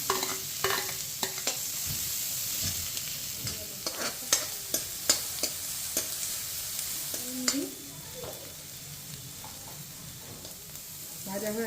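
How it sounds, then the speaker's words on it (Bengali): Chopped onion and garlic sizzle in hot butter in a pan, a steady bright frying hiss punctuated by repeated clicks and scrapes of stirring, heard close up. "হয়ে গেছে বাটার গরম, পেঁয়াজ রসুন দুটোই দিয়ে দিলাম।"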